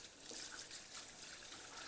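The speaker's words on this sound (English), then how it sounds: "rinse them off with hot water. This should take care of all the grease" Hot tap water rinsing grease off a grill grate in a sink, a steady hissing trickle and splash that runs unbroken and fairly close, with no talking.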